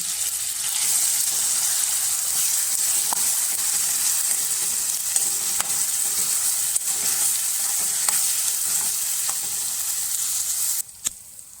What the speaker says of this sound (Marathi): कांद्याला आता तेल सुटलेलं आहे छान प्रकारे आपण कांदा शिजवलेला आहे